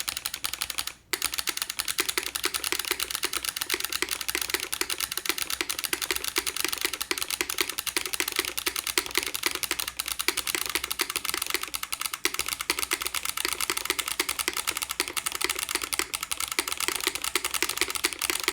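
Steady, fast typing on a computer keyboard with a built-in solenoid, each keystroke a crisp click backed by a mechanical tap, continuous and close for the whole stretch.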